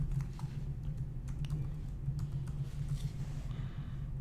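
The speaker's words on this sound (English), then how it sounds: "once you finish typing your sentence, click save" Soft typing on a computer keyboard, faint scattered key taps over a steady low electrical hum.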